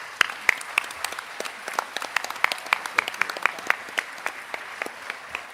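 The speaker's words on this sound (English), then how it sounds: "Let's give a warm round of applause to Irene Galtung." Audience applause at the Leif Eiriksson Peace Award 2022 ceremony, a modest crowd clapping steadily with distinct individual claps, fairly quiet and without voices.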